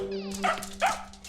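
A dog barks outside twice in quick succession over a steady tonal hum, the barks sharp and fairly close.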